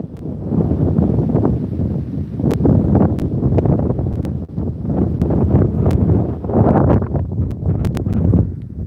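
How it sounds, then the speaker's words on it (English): Strong storm wind under a tornado watch buffets the microphone in heavy, rumbling gusts that swell and ease, loud and continuous with occasional brief clicks. "I apologize if it's hard to hear because of the wind"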